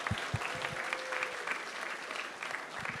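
An audience at a hackathon closing ceremony applauds steadily and loudly, a dense wash of clapping that keeps going for the whole stretch, with a few louder individual claps standing out.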